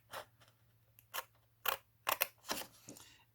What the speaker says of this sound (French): Ici, du coup, on va couper le morceau qui est là.